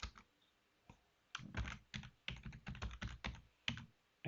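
Typing a MySQL password on a computer keyboard: quiet, close key clicks come in a short burst after a few isolated taps, with uneven rhythm.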